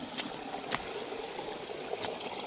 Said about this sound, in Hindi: देख सकते हैं किस प्रकार से यहाँ पानी जो पहाड़ से निकल रहा है ना